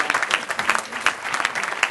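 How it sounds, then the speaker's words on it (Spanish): An audience at a media conference claps for a speaker being introduced, a short burst of dense, close applause with no cheering. "Un aplauso."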